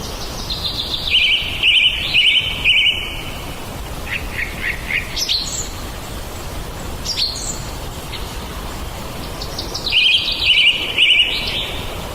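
Song of a common blackbird (Turdus), a European thrush: repeated bright, trilling phrases in clear bursts with short pauses between them, heard alone with no talk.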